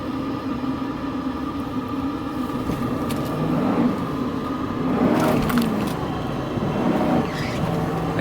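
Mercedes S500 W140 sedan accelerating hard, a steady engine drone inside the cabin that swells and roughens midway, with faint rattles and no talk.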